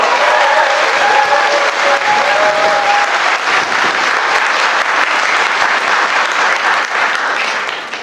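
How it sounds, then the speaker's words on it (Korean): A large audience of about 1,500 at a Bucheon Geumgang village redevelopment briefing bursts into sustained, loud applause welcoming a guest lecturer, a dense wash of clapping that holds steady for several seconds before easing slightly at the end. "큰 박수 부탁드립니다"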